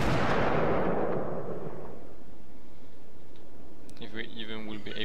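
A heavy naval gun salvo of AP shells from the cruiser St Louis in World of Warships, one loud booming blast that decays into a long rumbling tail, followed by a voice speaking.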